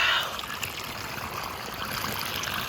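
Water rushes steadily through an Alan Robertson hobby miner sluice outdoors, a continuous close wash with a trickling, splashing texture and no talk.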